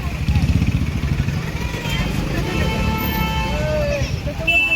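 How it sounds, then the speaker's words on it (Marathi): A jammed street in Latur with motorcycles and cars idling and creeping, a steady dense engine rumble and crowd murmur close around, with people talking over it. "जाम गर्दी झाली आहे पूर्ण ट्रॅफिक जाम झालं"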